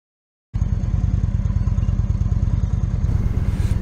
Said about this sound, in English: It's a very heavy motorcycle.